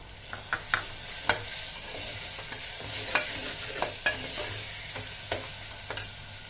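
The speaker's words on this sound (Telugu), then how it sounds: "దీనిలోనే కొంచెం ఉప్పు వేస్తానండి, తొందరగా మెత్తగా పడి తొందరగా వేగుతుంది" Onions with salt frying in a pan and being stirred, giving a steady sizzle under repeated light scraping clicks from the spoon, close and moderately loud with no talking.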